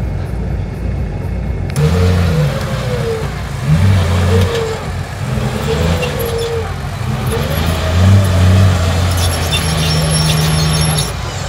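Off-road car engine revving while driving, likely at a night off-road competition in Latvia, with repeated rising engine whines under steady broadband rumble and high squeals near the end.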